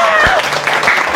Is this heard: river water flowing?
no